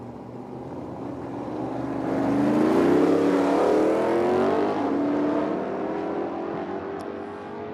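A Mach 1 Mustang drag racing at Medicine Hat, Alberta, its engine building from a rumble to a loud, rising roar as it pulls hard down the strip, then easing into a sustained drone.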